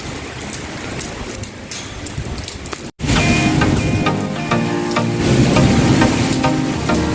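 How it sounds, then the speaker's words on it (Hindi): Heavy rain pours down outdoors with a cool wind, a dense steady hiss of drops on surfaces, fairly loud and close, cutting briefly near the middle and then returning stronger; no thunder stands out. "इतनी शदीद बारिश शुरू हो गई है"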